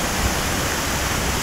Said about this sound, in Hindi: ये देखिए सामने वाटरफॉल